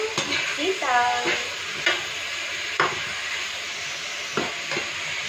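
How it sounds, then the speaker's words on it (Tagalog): Meat frying in a pan for adobong sitaw, a steady sizzle with occasional stirring scrapes and clinks, close and moderately loud, with a brief faint voice early on. "Lutuin lang natin muna yung karne bago natin ilagay yung sitaw."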